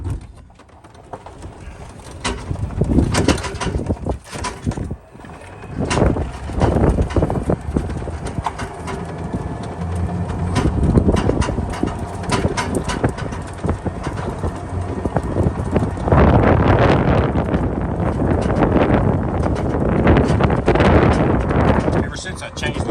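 An EZGO 48-volt golf cart converted to lithium battery drives outdoors on a windy, cool day, with steady rumbling motion noise, clattering bumps and gusts buffeting the microphone throughout.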